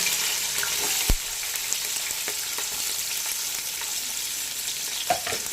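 Chopped onions and green chillies fry in hot oil for a chicken biryani, giving a steady, close sizzle throughout with occasional clinks of a stirring spoon against the pan.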